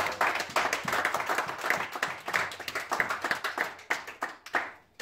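A church congregation claps and applauds in praise, many hands beating in a fast, slightly uneven rhythm that continues throughout, fairly close and lively.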